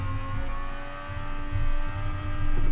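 A turbocharged V8 in a formula car in BeamNG revs high with a steady droning whine that rises and surges in loudness, heard alone with no talking.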